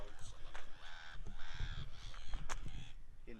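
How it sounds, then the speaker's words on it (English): Harsh, raucous bird calls ring out several times outdoors beside a parked VW Transporter T5 van, loud and near, mixed with a low rumble and bits of voices. "Shut up, seagulls."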